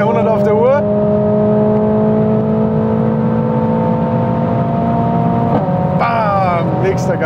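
525 hp Mercedes-AMG A 45 S accelerating hard through the gears on a fast road, a loud droning engine note climbing in pitch, with a quick gear change near the end, heard from inside the cabin.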